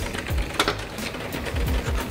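Espresso coffee grinder working beans, a close, busy mechanical whirring and rattling with a couple of brief louder pulses over about two seconds.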